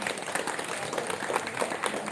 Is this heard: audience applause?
yes